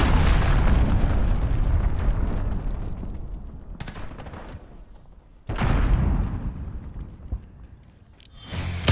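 A cruise missile detonates in a video game with a huge rumbling boom that slowly decays, followed by a second sharp blast and a long fading roar, heard alone without speech.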